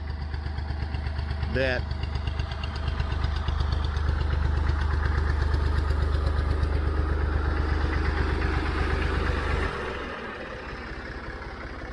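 A Massey Ferguson Model 50 tractor fitted with a Model 100 loader idles on a farm, its low diesel chug running steadily under a man's speech before dropping in level near the end.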